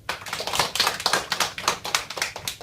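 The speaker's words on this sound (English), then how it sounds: "Give yourself a round of applause" Classroom applause from a group of students, a quick patter of claps in uneven bursts that swells and fades over a few seconds.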